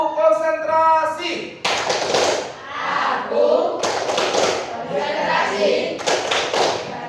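Seventh-grade children clap a rhythmic concentration chant together in a classroom, sharp group claps in quick patterns mixed with their chanting voices, close and loud.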